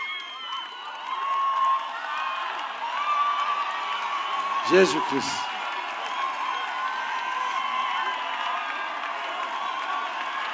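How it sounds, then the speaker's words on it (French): A congregation at a prayer and intercession service claps and cheers in a broad, continuous crowd roar, with a voice cutting through briefly midway and shouts rising and falling throughout. "Clap for Jesus"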